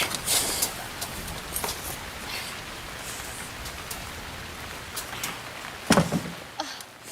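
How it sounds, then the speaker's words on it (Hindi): Heavy rain pours steadily outside, a dense continuous hiss with a few louder knocks and patters on surfaces near the end. "बाहर कितनी बारिश हो रही है ना"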